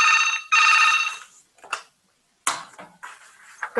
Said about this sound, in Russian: извините, мне звонят